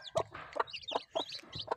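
A Kadaknath and Murkatti cross-breed chicken clucks nearby in a steady series of sharp, evenly spaced calls, loud and alone.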